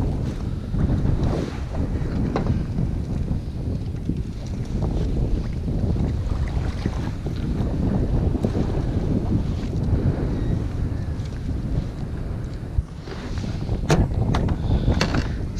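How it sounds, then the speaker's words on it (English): Strong gusty wind buffets a Bonafide SS127 kayak on the California Delta, a constant loud low roar of wind against the microphone with faint water sloshing and occasional light knocks. "I thought the wind was gonna die down. It just really wants to blow this kayak all over the place."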